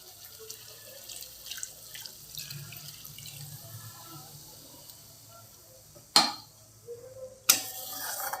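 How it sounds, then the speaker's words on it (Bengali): Water rinsed from a mixer grinder is poured into spice paste frying in oil for a pabda fish dish, a soft sizzle giving way to two sudden loud hissing splashes, close and alone. "দেখেন এই অবস্থায় মিক্সি ধোয়া জলটা দিয়ে দেবো।"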